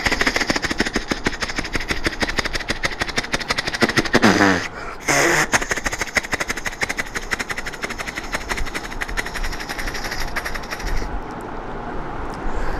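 A man mimics a helicopter with his voice, producing a continuous rapid throbbing chop that holds steady for about twelve seconds, with a brief break in the middle, loud and close.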